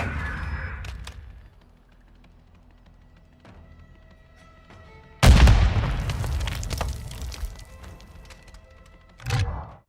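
A grenade launcher in Modern Warfare II fires, followed by a loud booming explosion midway and a second thumping burst near the end, with faint game ambience before and between.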